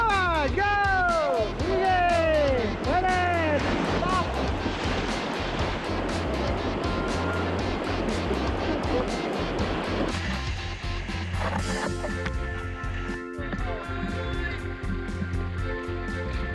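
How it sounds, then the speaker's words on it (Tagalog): Rushing river rapids on the Chico River roar loudly and continuously, close by, with a voice talking over the churning water and later a steadier droning tone joining in. "Sinalubong na kami ng rapids."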